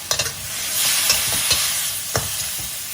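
Liver and holy basil leaves stir-fried in a hot pan, with loud close sizzling and a few quick spatula scrapes and knocks, no voices.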